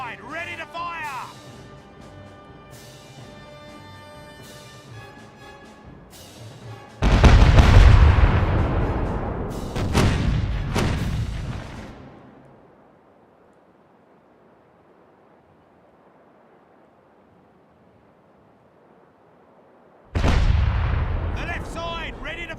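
Heavy ship cannon broadsides boom in the Caribbean Legend pirate game, two loud rolling volleys around seven and ten seconds then a third near the end, over sea ambience and game music.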